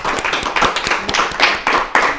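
An audience of a children's quiz competition applauds a girl for a correct answer, with several sharp claps ringing out in an uneven, fairly loud burst close by.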